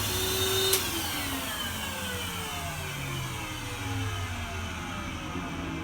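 A Henry HVR200P vacuum cleaner runs close by with a steady, loud motor drone and a brief whine near the start, continuing unbroken with no talk over it.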